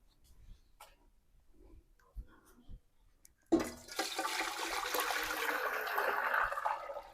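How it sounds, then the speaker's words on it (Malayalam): Water pours into a cooking pot set on a gas stove for rice, a steady rushing splash starting abruptly midway and continuing loudly to the end, preceded by faint scattered clatter. "ഇതിലേക്ക് വെള്ളം ഒഴിച്ചു കൊടുക്കണം."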